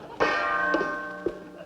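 A gong struck for a ritual rings out loudly with a long shimmering sustain, followed by two lighter strikes that swell the tone again as it slowly fades.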